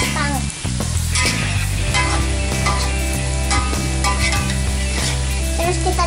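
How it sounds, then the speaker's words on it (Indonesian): Potatoes frying in oil until browned and hard, a dense steady sizzle with bubbling crackle filling the whole stretch, close and loud, with low hum underneath and no talk. "Goreng kentangnya sampai agak kecoklatan, terus sampai matang, sama sampai keras."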